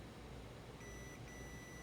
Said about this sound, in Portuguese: Aqui está bipando também, ó.